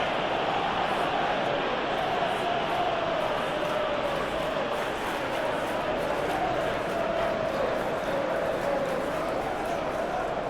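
Stadium crowd in eFootball PES 2021 during a simulated Tottenham Hotspur vs Arsenal match, a dense, continuous roar of cheering and chanting that stays loud and steady throughout, with commentary voices mixed in.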